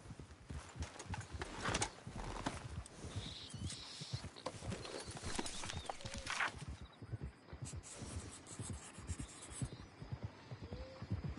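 In the video game Red Dead Redemption 2, a horse-drawn wagon comes along a dirt track, with steady hoofbeats clopping and growing nearer under quiet outdoor ambience, with only brief talk.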